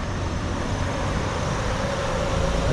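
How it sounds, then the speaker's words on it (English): Steady, dense roar of downtown traffic on 3rd Street, continuous road noise from passing cars and larger vehicles at close range with no pauses. "Too much traffic."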